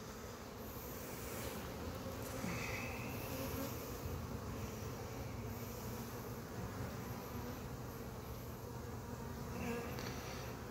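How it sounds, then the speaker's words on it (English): Honey bees humming steadily around an open hive with drone brood and open larva, a dense, continuous close buzz with no talking. "that's some super, super calm bees"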